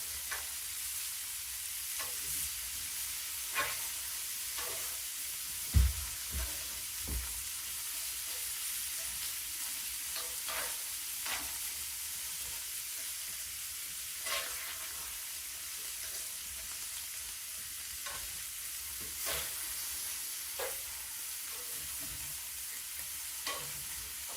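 Venison heart cooking hot and fast on an antique wood stove: a continuous close sizzle with scattered sharp pops and crackles, plus a couple of low knocks near the start, and no talking.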